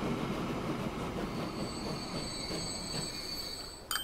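A train departs in Transport Fever 2 with a steady rumbling roll and high wheel squeal, continuous and fairly close, with no voices.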